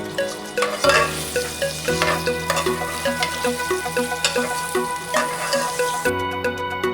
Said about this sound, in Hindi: इसके बाद जो अभी हमने बारीक प्याज काटी है वो हम इसमें डाल देंगे और इसको हल्का सा गोल्डन ब्राउन कर लेंगे।